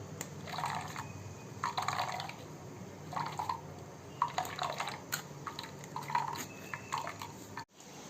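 Coconut milk for kozhukattai is strained through a filter in a kitchen, giving soft wet squishes and drips in repeated bursts, quiet and close, with no one speaking.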